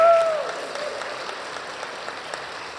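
Light scattered applause follows a brief whoop, fading to a few sparse claps from a small group.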